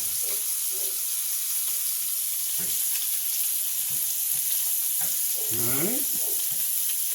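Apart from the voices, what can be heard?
scallops searing in a skillet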